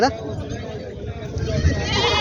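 A goat bleats close by at a busy goat and sheep market in Vasmat, its call partly under nearby voices and crowd murmur.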